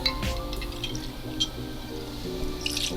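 Mezcal poured into a cocktail measure, a soft trickle with light splashes and small clinks, close and quiet.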